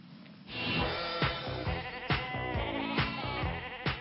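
Sheep bleating repeatedly during shearing on a Norwegian TV broadcast, several loud, wavering cries at roughly one-second intervals over steady background noise.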